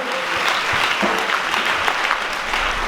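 A church congregation at a night vigil claps loudly in praise of God, a dense continuous burst of applause with scattered sharper claps throughout.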